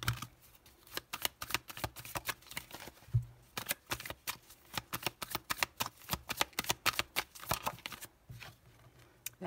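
Tarot cards are shuffled close and quietly, giving rapid rippling riffles and soft flicks in repeated bursts with brief pauses, no talking.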